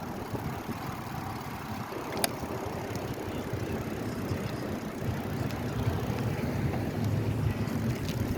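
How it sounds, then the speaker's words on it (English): Steady low wind rumble buffeting the microphone at ground level on Fort Myers Beach, Florida, while bicycling, continuous throughout with a faint swell toward the end and a single sharp click partway. "Now, at the ground level, it feels some more windy."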